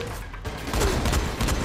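Dense, chaotic gunfire bursts with heavy crashing impacts throughout a brief stretch of Dying Light gameplay, loud and busy with no clear pauses, the close shotgun blasts blending into the overall clamor.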